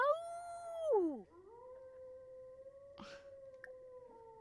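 A werewolf in The Sims 4 howls, a long tonal wail that bends down and fades, then a second, lower steady howl drawn out for several seconds, clear and close with a brief rustle partway through.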